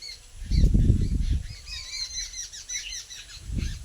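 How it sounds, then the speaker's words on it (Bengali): Birds chirp and tweet repeatedly in an open field on a pleasant afternoon, their bright calls carrying over low wind rumble and a few nearby thumps. "এদিকে পাখির কিচিরমিচির শোনা যাচ্ছে,"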